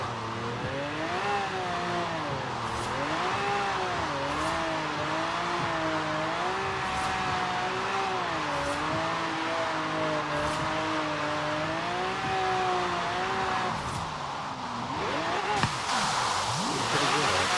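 A car revs hard while drifting on a wet track in the rain, the engine note rising and falling in long sustained swoops close by, with tire noise and a brief voice near the end.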